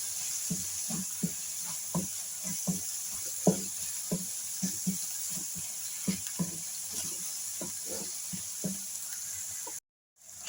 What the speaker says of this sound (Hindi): मसालों को करेंगे थोड़ा सा फ्राई।